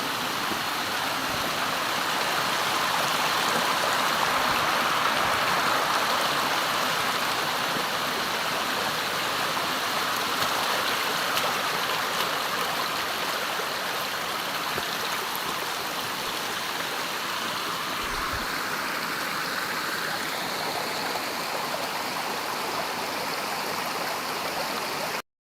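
Mountain waterfall with water pouring downward, a constant broad roar of rushing water that holds steady throughout, no voices over it.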